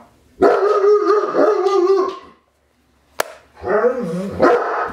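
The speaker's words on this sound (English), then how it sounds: "Indy is going to bark at the mailman" Indy the dog barks and howls loudly in two drawn-out bursts close by, with a short silent gap and a sharp click between them.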